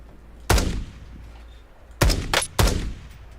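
Three sharp gunshots in Call of Duty Warzone, one alone and then two close together a moment later, each a loud crack followed by a short echoing tail.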